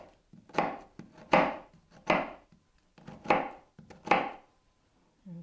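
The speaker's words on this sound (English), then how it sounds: "Now I'm going to chop a couple tablespoons of onion." A knife chops an onion on a cutting board, with five or six distinct close thuds in an uneven rhythm, spaced under a second apart, and no voices.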